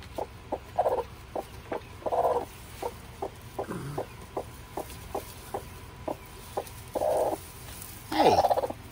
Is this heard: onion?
no